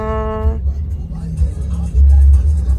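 A car rolls into a Jollibee drive-thru, its engine a steady low rumble that swells louder near the end, with a short horn-like tone at the start and voices talking over it.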